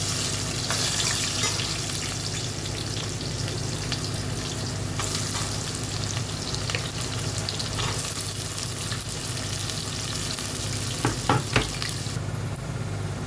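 Onions frying in oil alongside prawns, a dense, steady sizzle close up, with a few stirring clicks near the end.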